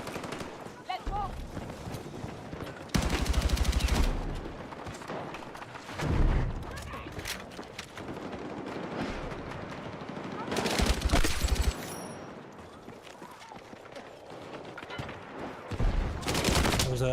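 Bursts of machine gun fire in a video game, several loud, rapid sustained volleys separated by calmer stretches, with other gunshots and voices talking over the action.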